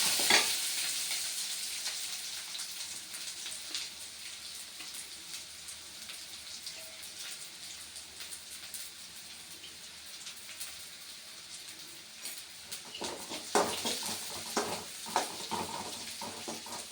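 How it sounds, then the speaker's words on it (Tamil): Garlic sautés in hot oil, a continuous close sizzle like rain with occasional spoon stirring that grows busier toward the end, and no one speaking. "இப்போ மறுபடியும் அதே பூண்டை வந்து மறுபடியும் எண்ணெயில் வதக்கிக்கலாம்"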